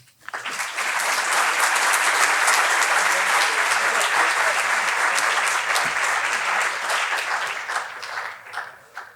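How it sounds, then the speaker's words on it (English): Sustained, dense applause from an audience welcoming a Harvard professor at an IQS talk, rising quickly and holding steady before tapering off near the end. "Please join me with an applause"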